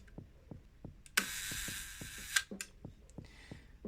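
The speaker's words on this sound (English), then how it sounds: "I fire the shutter" A faint mechanical whir runs for about a second between two crisp clicks as the shutter of a 1933 Voigtlander Superb camera fires, set against quiet, regular ticking in a still room.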